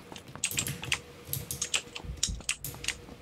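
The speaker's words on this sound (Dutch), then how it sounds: "ik hoor zijn mechanisch toetsenbord" Mechanical keyboard typing comes through a teammate's open mic during a PUBG match, a quick, clacky run of keystrokes with small pauses, close and clear with no talk.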